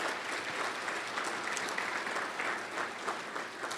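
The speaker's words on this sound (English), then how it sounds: "give them a big round of applause right here" An audience at a lecture series event claps in a steady, dense round of applause, with no voices rising above it.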